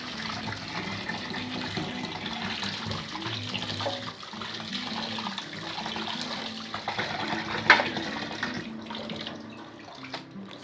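Water is poured and sloshed over mutton pieces being washed with salt, a steady running, splashing flow that continues for about ten seconds with a brief louder splash near the end, and no one speaking.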